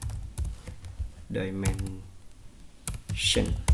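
A layer name is typed on a computer keyboard in a drawing program, producing a few scattered close keystroke clicks while a person talks in between.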